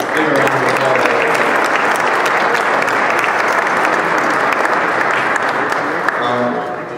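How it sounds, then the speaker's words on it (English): Steady, dense applause from an audience at a Giro d'Italia presentation held at the Embassy of Italy in Washington, sustained and loud throughout with a slight taper at the end. "Give a round of applause."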